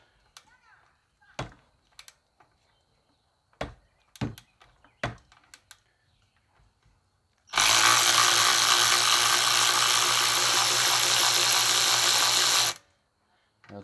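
Ten-millimetre bolts are loosened on a Honda GCV190 engine of a Ryobi pressure washer: scattered sharp tool clicks and knocks, then a loud sustained whirring burst of about five seconds, heard close by.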